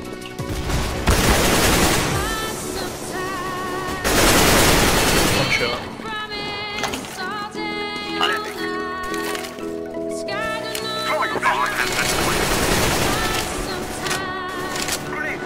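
Grenade blast and rapid gunfire in the video game Counter-Strike: Global Offensive, dense and loud with heavy bursts and explosions throughout, under a voice speaking.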